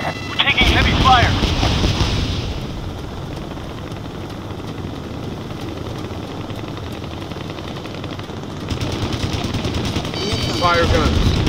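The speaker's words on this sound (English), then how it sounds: "We're taking heavy fire." Heavy rapid gunfire rattles in a combat video game, loud bursts at the start and again near the end with a rumbling engine-like din between, while voices talk over the action.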